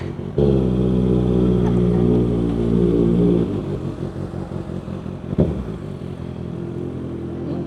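A big Kawasaki ZX6R motorcycle ridden at night, its engine droning loud and close with steady harmonic revs, then easing off partway through before a brief clunk and continued running.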